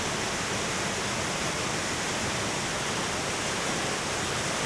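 Ramsey Falls in Ramsey Park, Redwood Falls, Minnesota, roars as a steady, dense broadband rush of falling water, loud and unbroken throughout, with no voices.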